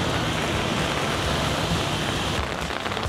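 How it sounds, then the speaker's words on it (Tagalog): Heavy rain in Taipei near a metro station exit, a dense, loud, continuous hiss of downpour with no breaks and no talking. "Grabe yung ulan"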